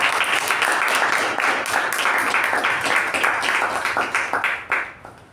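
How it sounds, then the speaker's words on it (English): A club meeting audience claps for the evening's Toastmaster, dense steady applause that holds for several seconds and then thins into scattered last claps before fading out. "Let's give a huge round of applause for Toastmaster of the Day,"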